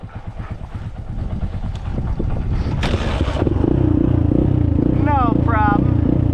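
A cheap ATV needing carburetor work is cranked over and its small engine catches, settling into a loud, steady rumbling idle close by, with a brief higher whine near the end.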